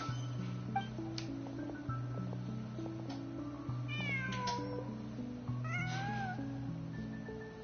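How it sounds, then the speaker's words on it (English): A cat in the Genshin Impact video game meows a few times, rising and falling cries over a soft, steady in-game music bed with chiming notes. "Just a cat."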